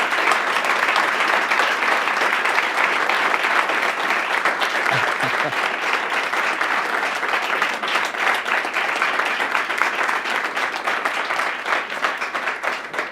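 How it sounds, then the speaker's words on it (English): An audience at an Ontario health care innovation event gives a dense, sustained round of applause, steady and loud throughout with no break, the clapping filling the room. "And that round of applause isn't for us."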